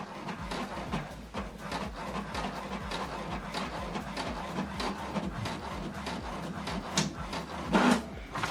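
An HP DeskJet printer runs a print job, its mechanism whirring and clicking steadily at close range with a few louder mechanical knocks near the end.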